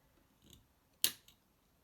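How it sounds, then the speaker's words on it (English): Snips or scissors cut loom warp threads with one sharp, close snip, preceded by a softer scissor sound and followed by a faint click, all against near silence. "now with your snips or scissor, just cut the first two on each side"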